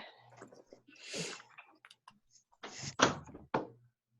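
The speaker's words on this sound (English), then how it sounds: "I'm gonna go shut the door" A door is closed indoors, with a sliding rumble followed by sharp clacks and a latch click near the end, heard up close and fairly quiet against a still room.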